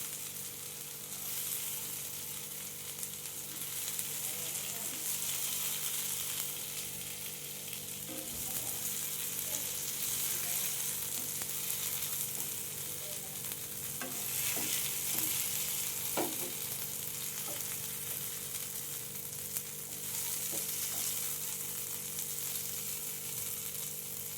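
Chicken pieces frying in a pan for chicken tikka masala, a steady bubbling sizzle with occasional sharp pops and spatters, close and moderately loud, with no talking.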